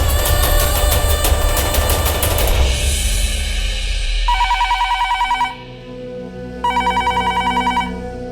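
A telephone rings in a household drama scene, first under a loud musical sting, then two bursts of rapid electronic trilling separated by a short pause, clear and close with a low tone underneath.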